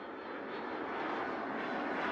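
A jet airliner rolls for takeoff in the airport-control game Mini Airways, a steady, loud broadband engine roar holding constant throughout with no talking.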